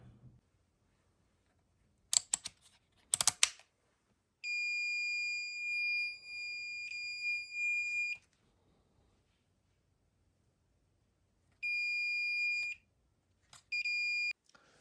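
High-pitched electronic beeps from a Fluke VoltAlert voltage tester held near a live wall outlet, a long steady tone followed by shorter bursts, with a few sharp clicks beforehand in an otherwise quiet room.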